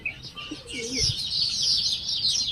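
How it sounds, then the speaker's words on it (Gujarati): Domestic pigeons, including Lahori Siraji birds, give soft low coos close by amid a busy layer of high chirping and twittering from other birds, with no talking. "જોઈ લો આપણે કબૂતર."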